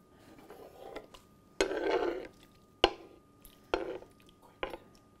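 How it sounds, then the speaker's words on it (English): A knife's blunt spine scraping across a wooden cutting board in a home kitchen, heard as one longer drag followed by several short, sharp scrapes at close range. "You always want to turn your knife over and use the blunt side when you're scraping your board"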